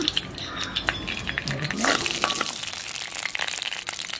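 Crackling, sputtering sizzle of mustard seeds popping in hot oil for a Jaffna-style crab curry, continuous with scattered sharp pops, close up, no talking.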